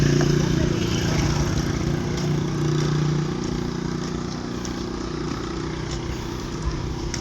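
A motorcycle engine drones steadily outdoors, a low continuous rumble with a faint tonal hum that eases slightly in loudness over several seconds, with no one talking.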